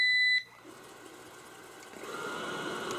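An Amarey A800 robot vacuum gives a short, loud electronic beep as it starts cleaning, and its quieter, steady whirring motor and brush noise follow and build gradually.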